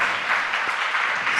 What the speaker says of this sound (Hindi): आप जो ताली बजा रहे हैं